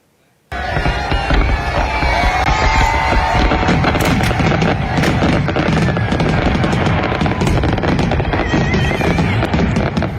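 New Year fireworks in the UAE burst in dense, rapid crackling volleys, with loud continuous booms and popping that carry on without a break after a sudden start.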